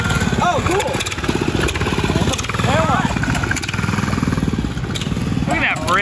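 Small engine of a restored 1969 Powell mini bike running at a steady idle nearby, its even putter continuing under lively conversation among several people.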